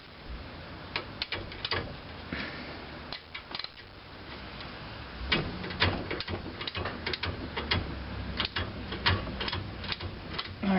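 A wrench works on a seized caliper pin on the front brakes of a 2005 Scion tC, making a steady run of close clicks and ratcheting ticks with scraping metal texture in between.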